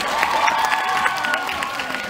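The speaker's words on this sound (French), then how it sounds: "Une main d'applaudissement." Crowd at a birthday comedy show in Valleyfield claps and cheers steadily, a dense, fairly loud wash of applause with scattered shouts throughout.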